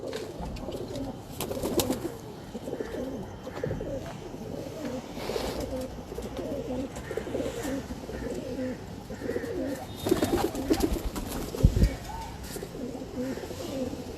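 Pigeons kept on a city rooftop in Lahore coo steadily throughout, close by, with soft chirps mixed in, while people talk quietly in the background.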